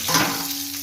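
Ilish paturi, hilsa fish wrapped in banana leaf, frying in a pan on low heat: a steady broadband sizzle with a faint hum underneath, brief and continuous.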